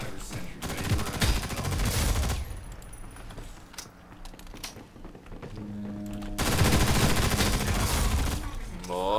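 MP5 submachine gunfire in the Ghost in the Shell video game, rapid loud bursts in two main stretches with quieter gaps and game sounds between them.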